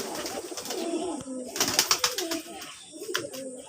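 Pigeons at a farm of deshi coloring golla pigeons coo in overlapping throaty phrases close by, mixed with short bright chirps and a bit of fluttering, with faint talk in the background.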